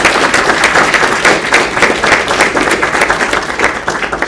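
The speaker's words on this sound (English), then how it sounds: "I'd like to offer a quick round of applause for them." An audience applauds at a House Oversight hearing, dense sustained clapping from a roomful of people, steady and close throughout with no voices over it.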